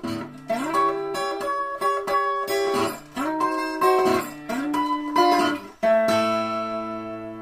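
Acoustic guitar strums ring out one after another, each chord bending slightly in pitch with a subtle wavering vibrato as it sustains, played alone.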